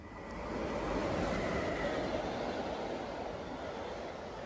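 A steady, broad rumble of a train rolling past at moderate distance, holding level for several seconds with no voices.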